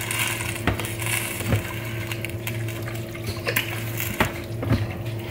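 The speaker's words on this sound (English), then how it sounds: "And then I'm going to add that water to the pork. And just give it a good stir." Water stirred into pork in a pot for pulled pork, a wet churning and squelching with repeated knocks of the spoon against the pot, close and fairly loud, with no talking.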